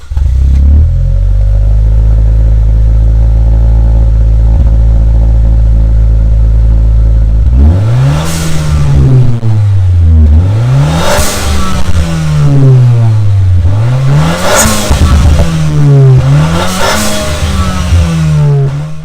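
A 242 hp Nissan Juke revs hard through an aftermarket exhaust, first a steady loud idle drone, then repeated sharp throttle blips that rise and fall in pitch, close and alone.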